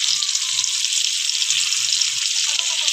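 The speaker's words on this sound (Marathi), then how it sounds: "पहिला आपण तव्यावर तेल टाकलं आहे. आता आपण कांदा टाकून घेऊया." Onion hits hot oil on a flat griddle with a bright, dense, steady sizzle, loud and close, with a few soft low bumps underneath and no speech.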